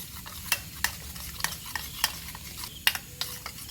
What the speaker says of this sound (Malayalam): അപ്പോൾ നമുക്കിത് നന്നായിട്ടൊന്ന് മിക്സ് ചെയ്ത് കൊടുക്കുക.